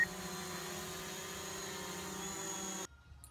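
A DJI Mavic Pro drone hovers and turns with a steady, close, high-pitched propeller whine and buzz that cuts off abruptly near the end.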